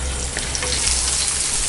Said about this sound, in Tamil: ஆயில் நல்லா காஞ்சிருச்சு. இதுக்கு ஃபஸ்ட்டு நம்ம பச்சை மிளகாயை ஆட் பண்ணிக்கலாம்.